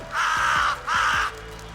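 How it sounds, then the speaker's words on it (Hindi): Two harsh crow caws ring out in the Roblox horror game Darrens Island, each a drawn-out, nasal call separated by a short pause, loud and clear against a faint low ambient background. "ये कौवा फिर से"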